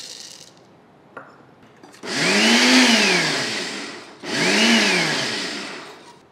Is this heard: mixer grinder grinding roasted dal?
yes